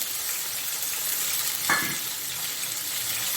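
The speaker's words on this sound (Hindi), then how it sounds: "इसको थोड़ा सा फ्राई करूंगी" Washed raisins frying in oil in a pan for Afghani beef pulao, a steady close sizzle throughout with a brief louder hiss midway as something stirs or shifts in the oil.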